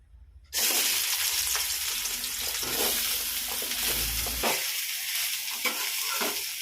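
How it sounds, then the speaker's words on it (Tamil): Ginger drops into hot oil with dried chillies and lentils and starts sizzling loudly, a sudden burst of close frying hiss that carries on with stirring scrapes and crackles. "இந்த எண்ணெயில் போட்டு வதக்குறோம்"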